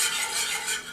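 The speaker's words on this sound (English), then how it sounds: "Now you whisk, whisk, whisk." A whisk stirs velouté sauce in a pot for chicken pot pie, a steady close scraping and swishing that continues for the whole second with no voices.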